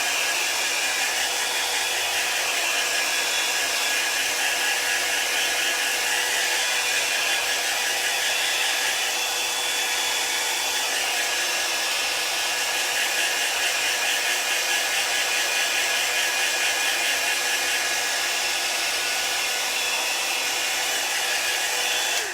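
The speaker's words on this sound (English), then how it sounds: "we are gonna use the blow dryer to dry the rest" A handheld blow dryer runs steadily and loudly at close range, a constant airy roar with a faint whine that holds unchanged throughout, drying a chalk paste transfer on a craft project with no talking.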